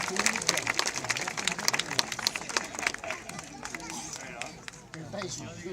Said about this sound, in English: Round of applause for our littlest lumberjack